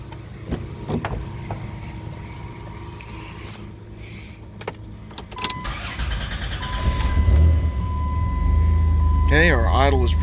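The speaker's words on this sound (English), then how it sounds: "So we're going to start this thing up." A car engine cranks and fires up, then settles into a steady, loud idle. Small clicks and rattles come first, as if keys or switches are handled, before the engine starts.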